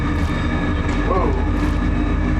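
A Zlin Savage Cub light aircraft climbs away in a heavy crosswind after takeoff. Its engine drones loudly and steadily from close up, with a wind rush and a voice briefly talking over it.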